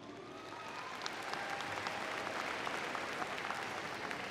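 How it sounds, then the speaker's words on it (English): Graduation audience at a Dallas ISD Seagoville High School ceremony applauding steadily, a dense wash of many hands clapping that swells slightly after the first second and holds at moderate loudness throughout. "Please give yourselves a round of applause,"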